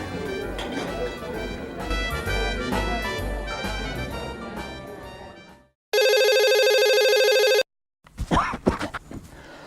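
A telephone rings once as a steady electronic tone burst, loud and close, following a stretch of dense music and followed by a short clatter of sounds.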